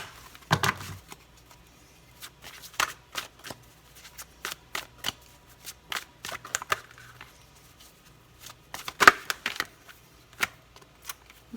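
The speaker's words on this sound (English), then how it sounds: "I'm going to take a Mystical Wisdom Oracle card for you." Mystical Wisdom oracle cards being handled and shuffled during a tarot reading, with quiet, scattered clicks, flicks and riffles at irregular intervals over a soft room hush and no talking.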